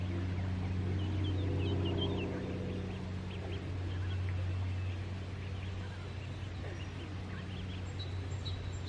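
Ducks quacking in a noisy bird gathering, a steady chorus of overlapping calls and squawks over a constant low hum, no talk.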